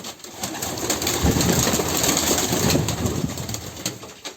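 Serbian high-flying pigeons in a loft coo and rustle, a busy layer of bird sounds over a steady low rumble like an engine, with no clear talking.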